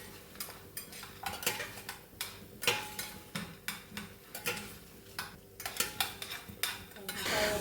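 Horse gram and grated coconut stirred and roasted in a metal pan for a Kerala sweet, with a steady run of close, rhythmic scraping and clinking from a utensil against the pan.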